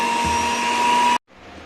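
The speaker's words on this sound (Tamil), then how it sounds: "இப்போ இதையும் போட்டு நம்ம நல்லா மிக்ஸ் பண்ணிக்கலாம்" Kitchen mixer blending an orange ice cream mixture coloured with a few drops of food colouring, a loud steady motor whir that cuts off abruptly, leaving a quieter hum afterward, close by with no talking.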